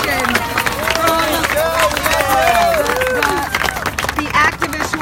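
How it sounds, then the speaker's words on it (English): Activists give a standing ovation to protesters arrested at a slaughterhouse protest, applause and cheering mixed with crowd chatter, shouts and voices, busy and fairly close. "They are getting a standing ovation and applause for the arrest that they experienced."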